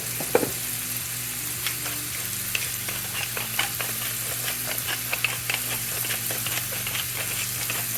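Peeled, deveined shrimp fry in pancetta grease with a steady, close crackling sizzle, and short stirring clinks and scrapes recur throughout.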